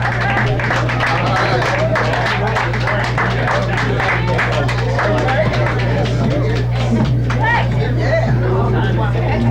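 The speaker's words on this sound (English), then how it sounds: "let's give her a nice round of applause to make her feel welcome" A crowd applauds to welcome a woman performer at a Women's History Month musical evening, with dense, steady clapping and crowd murmur that fill the whole clip.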